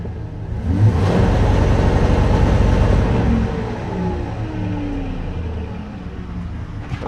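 A car engine held against an MSD 8733 2-Step launch controller limiter, running at about 2800 RPM: a loud, steady, rough drone with stuttering pulses, then easing lower and fading.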